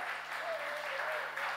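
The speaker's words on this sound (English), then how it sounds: "big round of applause for Sushant Sriram." Audience applause at a Lord of the Rings series fan event in India, a steady wash of clapping with faint cheering running throughout.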